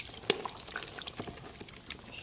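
Water poured over a kitten during its first bath, soft trickling and dripping splashes close by, quiet and continuous with small irregular spurts.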